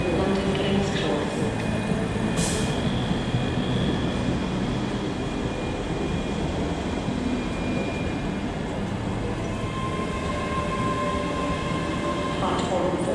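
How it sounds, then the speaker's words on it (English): A Class 385 train, unit 385111, arrives at Edinburgh Waverley from Glasgow Queen Street with a steady rumble and rail hiss that fills the whole stretch. It sits in station ambience, with faint announcement-like tones in the background. "385111 coming in with a service from Glasgow Queen Street"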